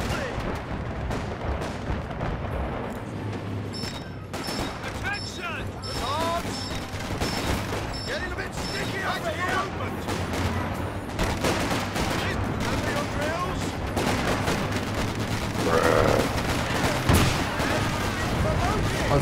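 Machine gun fire and other gunshots crackle through a Company of Heroes 2 online 4v4 battle, with bursts of fire and booms under occasional distant game voices.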